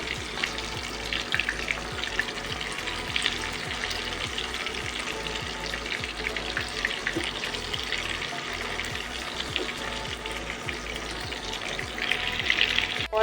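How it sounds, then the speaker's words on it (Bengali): Pakoras deep-frying in hot oil, a dense, steady crackling sizzle close up that continues without a break, with faint scraping now and then. "পকোড়াগুলো ভাজা প্রায় হয়ে গেছে"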